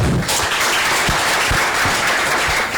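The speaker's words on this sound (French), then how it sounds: "Akossi Benjo, il faut l'applaudir beaucoup." A crowd applauding loudly and continuously at a reception ceremony, dense clapping filling the space throughout.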